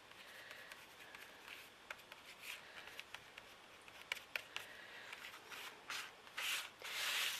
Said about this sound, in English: regarding the flowers, I'm just going to rub and buff over them